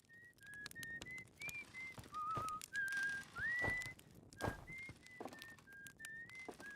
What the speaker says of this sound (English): That music, or that, audio sound, or the whistling sounds familiar.